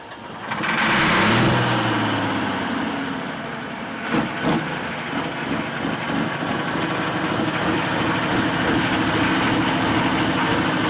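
A tow tractor at a 4-H fair tractor pull in Elkhart County revs up loudly, then settles into a steady, rumbling idle with a couple of sharp knocks.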